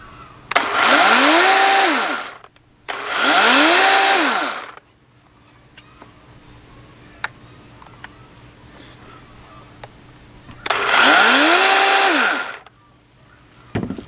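A compact Dewalt 20V battery chainsaw whines up loudly in three short bursts, two close together and one after a quiet gap. Each burst rises and falls in pitch as the chain spins up and winds down.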